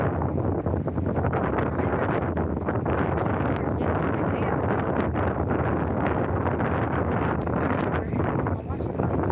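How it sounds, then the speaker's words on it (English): Steady wind rushes across an open, empty park with lakes, buffeting the microphone in a continuous broadband roar that stays loud and unbroken throughout, with no clear talk over it. "Loving that wind."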